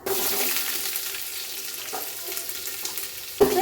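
Chopped ginger fries in hot oil with a steady sizzle and occasional stirring scrapes, then a sharper clatter near the end.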